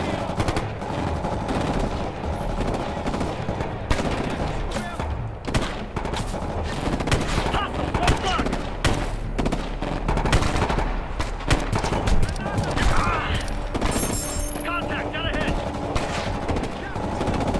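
Gunfire in the shooter game Ghost Recon Future Soldier during a Zambia mission: dense, continuous bursts of automatic fire and scattered shots filling the whole stretch, with brief shouted voices mixed in.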